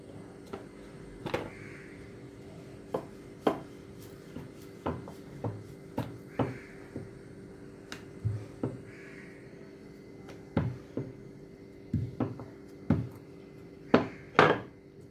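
A rolling pin rolls out egg paratha dough on a board, making a string of close wooden knocks and thuds in an irregular rhythm over a quiet, low background hum.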